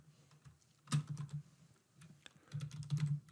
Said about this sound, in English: so let's type an email content